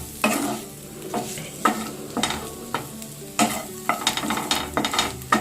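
Chicken cooked South Indian style with very little oil gets stirred in a pan, with repeated scraping strokes at an irregular rhythm over a soft sizzle, close up and with no talk.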